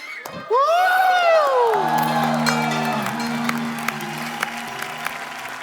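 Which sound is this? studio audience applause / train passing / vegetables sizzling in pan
studio audience applause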